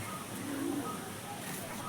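Pigeons cooing softly in a backyard loft, a low murmuring coo under steady background noise.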